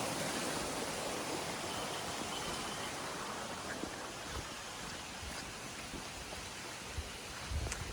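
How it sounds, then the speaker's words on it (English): A loud creek runs steadily right beside a campsite behind a camper, a constant broadband rush of flowing water with no talk. "it takes you down to this little cool creek area. And this creek is really loud at nighttime."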